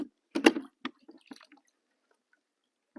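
A kayak rudder being hauled up out of the water gives a few short wet drips and squishy knocks close by, bunched early, then a lone splash after a quiet gap.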